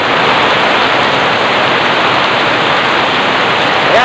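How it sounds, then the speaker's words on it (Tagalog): Steady rain pours down in a loud, unbroken hiss near a Honda Alpha 125 motorcycle being worked on, with no pauses or voices. "Nakisabay pa yung ulan."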